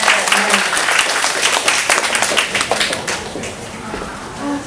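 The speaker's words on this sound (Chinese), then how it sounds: "我们现在掌声欢迎一下依琳姊妹。" An audience applauds to welcome someone speaker at a church sisters' gathering, with dense, steady clapping that fills the room and slowly thins toward the end.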